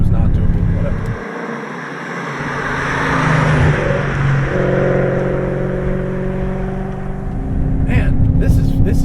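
A BMW E39 M5 with bolt-on modifications runs with a steady, loud engine drone and a brief dip in level, while people talk over it throughout.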